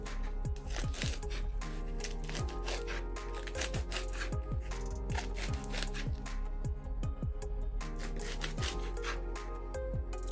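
A kitchen knife slices through a tight roll of collard greens on a wooden board, a run of crisp repeated cuts and leafy rubbing up close at a steady pace, with no talking.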